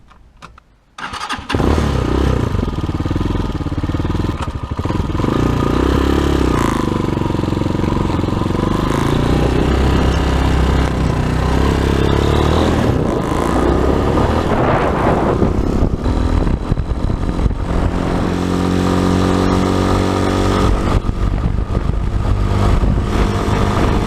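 A Hawk TBR7 motorcycle starts up and pulls away, its engine loud and close as it climbs through the gears with rising revs and shifts, wind roar building steadily.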